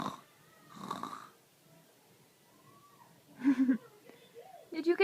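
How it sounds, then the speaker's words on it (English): A small child snores softly in a quiet room, with a few rough, nasal breaths rising in short bursts near the end, and faint talk in the background. "Snore."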